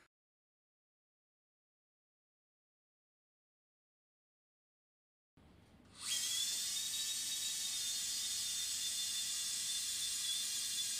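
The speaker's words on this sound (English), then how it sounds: "A 70 mm locking screw is initially inserted under power," A power driver spins a 70 mm locking screw into a pediatric femur fracture plate, starting abruptly after several seconds of silence and then holding a loud, steady high-pitched whine to the end.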